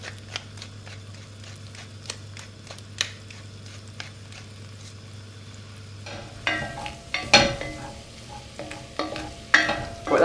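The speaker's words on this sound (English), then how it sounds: "I'll just stir fry that for 3 or 4 minutes just to get it lightly browned" Meat, seasoned with salt and pepper, stir-frying and browning in a pan for a game hot pot, with soft scraping stirs at first, then louder sizzling bursts and spatula clatter near the end.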